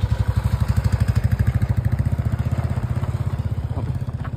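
A loaded motorcycle travels a rough, unpaved mountain road near Chandrataal in Spiti, Himachal Pradesh, its engine throbbing in a steady, fast pulse close by, with no talking.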